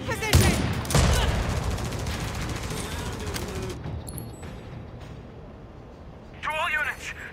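Gunfire and machine-gun bursts in The Division Resurgence rattle through a chaotic battle at a field hospital, loud at first with dense overlapping shots, then thinning out before another flurry near the end, mixed with voices.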